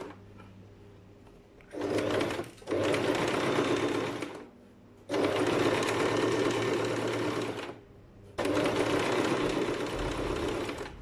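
A sewing machine stitches a seam in three sustained bursts of rapid, whirring needle chatter, separated by short pauses, close and clear with no talk.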